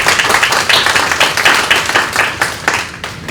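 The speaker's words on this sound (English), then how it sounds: "Please welcome Professor Yoon with a warm round of applause." Audience applause at a 2019 university conference, welcoming a moderator, Professor Yoon: dense, steady clapping from many hands, loud and close, tapering slightly at the end with no one speaking.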